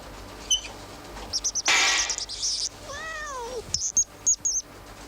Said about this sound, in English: Did I hear a cat meow?